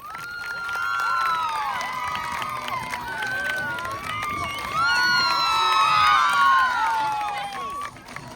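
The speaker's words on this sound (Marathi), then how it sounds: "टाळ्या वाजवा जरा" A crowd at a village Paithani prize show cheers and shouts, with excited children's voices and whoops rising and falling, loud and busy throughout, with little clear clapping.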